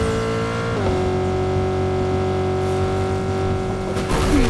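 A car engine in the Fortnite video game revs and drones loudly and close, a steady engine tone that dips briefly, then holds and climbs again near the end.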